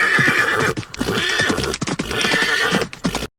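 Cartoon horse whinnying loudly in repeated bursts with clip-clopping hooves, two long neighs separated by short gaps, no talk.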